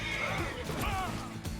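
A horse whinnies in the video game Red Dead Redemption 2, a drawn-out wavering neigh rising and falling over steady game ambience and background sound.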